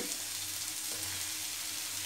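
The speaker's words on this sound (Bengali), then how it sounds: "হাই ফ্লেমে সবজিগুলোকে একটু সময় ধরে শর্টে করে দিতে হবে।" Vegetables and mushrooms stir-frying over a high flame, a steady dense sizzle with a constant crackling hiss throughout, close and alone with no talking.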